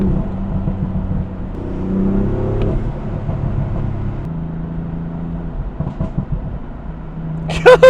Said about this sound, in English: The backfires sound so good.